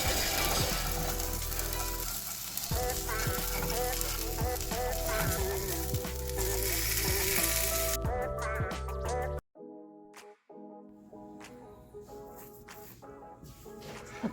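Almond flour pancakes sizzle loudly and steadily in a hot pan, a dense frying hiss that drops away abruptly near the end, leaving quieter clinks and scrapes.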